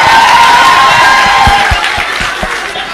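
A crowd at a Kenyan political gathering attended by President Ruto cheers and claps, a dense steady roar with scattered hand claps and whoops that fades slightly toward the end.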